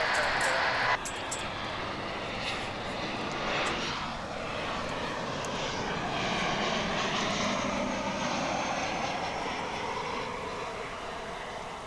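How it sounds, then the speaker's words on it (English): An American Airlines Boeing 737 lands at Dallas/Fort Worth, giving a fairly steady moderate jet roar that swells slightly midway, with a brief sharper burst of noise at the very start. "American Flight 1288, 737 coming in from Puerto Vallarta"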